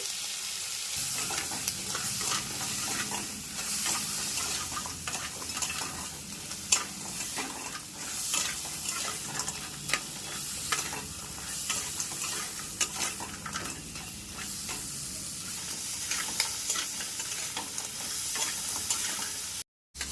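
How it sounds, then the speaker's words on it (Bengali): Chiti crabs lightly frying in a pan with salt and turmeric give a continuous close sizzle, broken by scraping stirs, with no voices. "কাঁকড়াগুলো হালকা ভেজে নিয়েছি"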